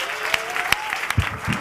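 A church congregation claps briefly during a sermon, a short burst of hand claps heard under a preacher's voice.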